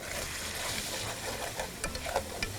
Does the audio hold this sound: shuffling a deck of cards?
no